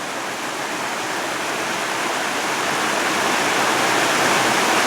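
A waterfall roars steadily on a rainy backpacking trip, a dense, even rush of falling water that grows slightly louder toward the end, with nothing else breaking through.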